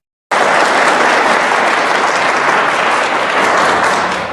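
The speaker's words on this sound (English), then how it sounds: "The room breaks into applause." Applause from a large crowd that starts abruptly and holds a loud, dense, steady roar of clapping throughout.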